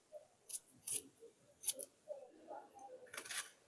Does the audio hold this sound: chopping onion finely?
yes